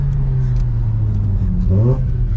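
A Mazda RX-8 engine idles low and steady, then briefly revs up with a rising whine near the end; close and continuous.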